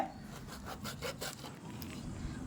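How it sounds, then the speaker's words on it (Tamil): A knife cuts through young jackfruit with a series of rhythmic rasping strokes, steady and close, with no other sounds. "கொஞ்சம் பார்த்து கட் பண்ணுங்கள், நைஃப் வச்சு கட் பண்ணுறீங்க"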